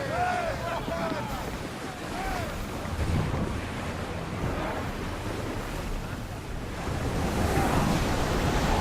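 Ocean waves and wind rushing past a ship under sail in the video game Assassin's Creed Odyssey, a steady loud surf wash with gusts, crew voices calling out over it.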